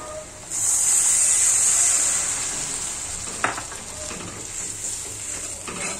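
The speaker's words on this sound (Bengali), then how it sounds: "এখন আমি পেঁয়াজের মধ্যে দিয়ে দিচ্ছি পানি।" Water poured onto onions frying in a pan sets off a sudden loud hissing sizzle that swells for about a second and a half, then eases into a softer bubbling fry with a few utensil knocks.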